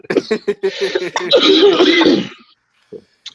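A person clears their throat and gives a raspy cough, drawn out and close, followed by a couple of faint breaths.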